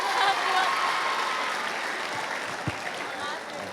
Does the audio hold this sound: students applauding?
yes